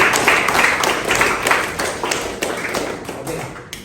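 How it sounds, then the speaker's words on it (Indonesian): Students in an Islamic high school classroom clap together, a dense burst of hand claps that stays fairly steady for a few seconds and then gradually thins out and fades. "Beri tepuk tangan untuk anak darahnya"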